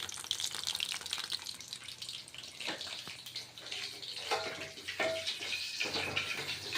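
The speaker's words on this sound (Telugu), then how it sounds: "ఫిష్ ఫ్రై అయిపోయింది" Pieces of fish fry in hot oil in a pan, giving a steady, crackling sizzle with scattered pops. The sound is fairly soft and continuous, with no voices over it.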